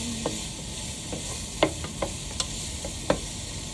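Sausage dropped into a hot pan for chicken sopas, a soft continuous sizzle with a few sharp ticks and clicks of utensils scattered through it, close and fairly quiet, with no talking.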